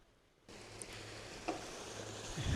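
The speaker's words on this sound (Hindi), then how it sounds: "इसमें हम चम्मच भी हिलाते रहेंगे ताकि नीचे ना लगे।" Beef for biryani frying in a pot over a high flame, a steady loud sizzle that jumps in after a quiet start, with spoon scrapes and stirring knocks near the end.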